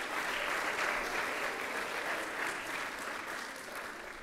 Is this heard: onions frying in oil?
no